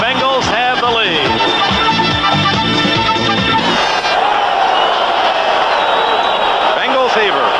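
A home crowd of about 59,000 roars at Riverfront Stadium in Cincinnati during the 1981 AFC divisional playoff between the Bengals and the Bills. A dense, continuous sea of cheering sits beneath someone talking loudly throughout.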